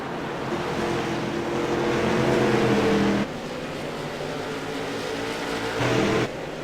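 Stock race cars roar into turn three at a short-track special event, engines droning and shifting pitch as the pack passes close together, with a sharp drop in level midway and a brief swell near the end.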